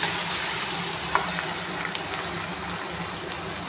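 Steady, loud sizzling of ginger, garlic and green chili paste frying in a hot pan, with faint stirring scrapes and occasional pops, no voices.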